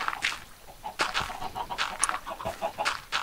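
Minecraft chickens clucking around a coop, several short clucks and squawks repeating irregularly at moderate volume with no talking over them.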